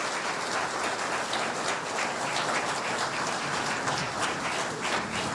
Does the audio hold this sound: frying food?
no